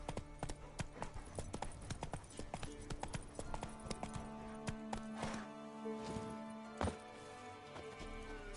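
Horse hooves galloping in The Witcher 3, a fast, steady run of clip-clop beats with a brief whinny-like sound partway through and faint game sounds underneath.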